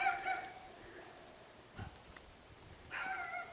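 A faint, distant dog gives two short bursts of yipping barks with quiet pauses between them, on an island in Thailand.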